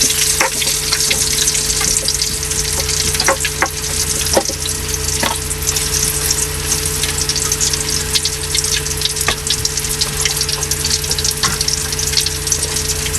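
Milkfish (bangus) frying in a pan, giving a loud continuous sizzle with scattered sharp pops and crackles spread across the whole stretch, no speech.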